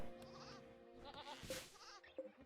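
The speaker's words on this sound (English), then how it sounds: "I hear another goat being slaughtered" A goat being slaughtered in the video game Rimworld lets out several faint, quavering bleats in a quick run, softly in the background with no speech.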